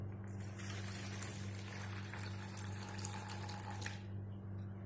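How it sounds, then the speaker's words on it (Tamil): Water drains from washed white semolina in a steady, faint trickle over a constant low hum, running continuously with a slight pause near the end. "இந்த தண்ணியை நாம இதுல இருந்து எடுத்துடணும்."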